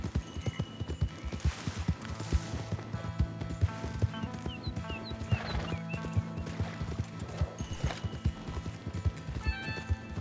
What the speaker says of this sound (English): So, I have to wrangle up some wild horses.